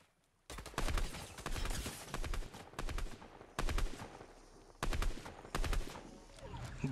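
Gunfire in the video game Fortnite comes in repeated loud bursts of rapid shots, broken by short pauses and heard up close.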